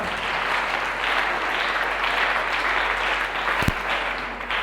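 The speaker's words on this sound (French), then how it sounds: "Alléluia, acclame encore le Seigneur très très fort" A church congregation at a community seminar claps steadily to acclaim the Lord, dense sustained applause filling the room, with one sharp louder thump near the end.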